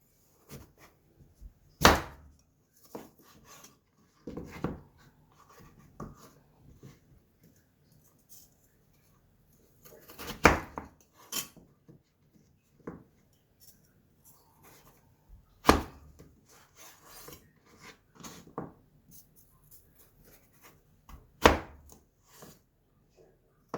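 A sharp knife chops through carrots on a cutting board in irregular, widely spaced strokes, sharp and close against a quiet background.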